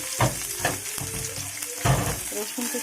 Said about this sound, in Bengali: পেঁয়াজটা একটু ব্রাউন কালার হয়ে আসছে